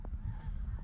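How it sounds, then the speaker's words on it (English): Faint geese honking in flight from a distance, a few short nasal calls overlapping in quick succession against a low rumble. "we got geese flying south"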